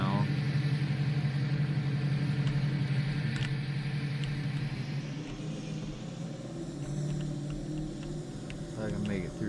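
A Cummins-powered truck idles steadily with a low, continuous engine rumble throughout, shifting slightly as it is moved into a parking spot, with some background movement noise.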